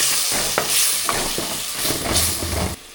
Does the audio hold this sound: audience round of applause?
no